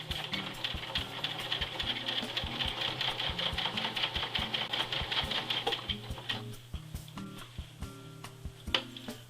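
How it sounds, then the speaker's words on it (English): A sewing machine stitches a curtain lining hem with a fast, even mechanical chatter of needle strokes that runs steadily, then slows and stops, leaving a few scattered clicks and bumps. "we'll sew this stitching line next"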